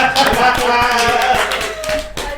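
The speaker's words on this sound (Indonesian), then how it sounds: "Tepuk tangan." A small group claps in quick, uneven bursts of close, fairly loud hand claps after a quiz question at a casual student talk session, with voices mixed in.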